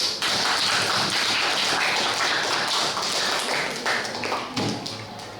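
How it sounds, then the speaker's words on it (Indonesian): An audience at a school short-film staging of a historical assembly applauds Soekarno's speech, a dense, sustained burst of many hands clapping close by that fades slightly toward the end. "Berikan aplaus yang banyak untuk pendapat dari Sir Soekarno"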